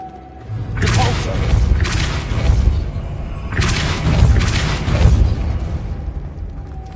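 Depulso spell cast in the video game Hogwarts Legacy, heard as two loud booming magical blasts in succession, each a broad whooshing burst with deep low-end thump and a short decaying tail.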